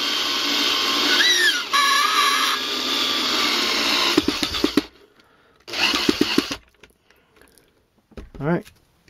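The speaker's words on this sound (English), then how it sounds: "Now we're drilling up into the bottom of the leg." Small drill boring up into the bottom of a plastic Warlord Titan model leg whines steadily for several seconds, stops, then gives a short second burst, followed by faint handling clicks and a brief voice.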